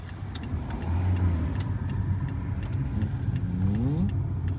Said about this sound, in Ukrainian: зараз зустрічка проїде